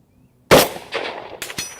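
A single sharp rifle shot from an Egyptian Hakim rifle fired at a target, a loud close crack followed by a short rolling echo and a second fainter report near the end.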